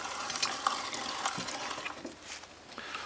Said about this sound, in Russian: Фактически мы сейчас сначала варим томат.